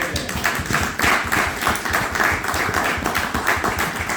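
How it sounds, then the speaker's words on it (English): Audience applause at an evening event honoring a guest, with dense continuous clapping at steady, moderately loud level throughout, no distinct voices standing out. "Let's give him an applause."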